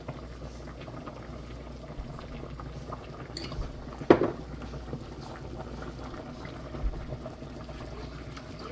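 Beef pasta sauce warming in a pan on residual heat after the burner is off, giving a soft, low bubbling and simmering hiss with one brief louder pop partway through.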